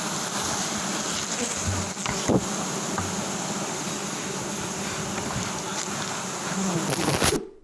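A large wild honeycomb being cut down from a tree, with a dense swarm of bees buzzing loudly and steadily throughout, close by, before the sound cuts off abruptly at the end.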